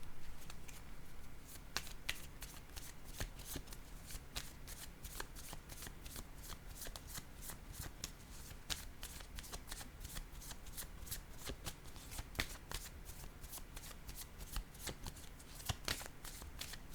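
Tarot cards are shuffled close up, a rapid run of crisp riffling snaps and flutters that continues steadily, with no one talking.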